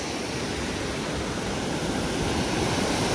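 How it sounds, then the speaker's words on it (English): A waterfall at Roaring River State Park pours in a constant broad rushing hiss, steady and full without breaks, with no voices over it. "Oh, look, there's waterfalls down there."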